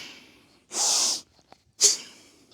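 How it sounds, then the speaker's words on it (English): Forceful nasal breathing during a weightlifting exercise: a long, loud sniffing inhale through the nose, a brief tiny click, then a sharp snort-like exhale, close and breathy with near silence between. "I am focusing on nasal breathing with this."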